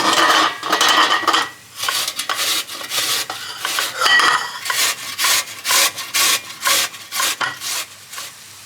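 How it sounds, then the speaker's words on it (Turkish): A large potato rubbed against a kitchen grater in quick repeated strokes, each rasping scrape close and distinct, the rhythm speeding into a steady back-and-forth toward the end. "Bir büyük patates rendeleyeceğim şimdi."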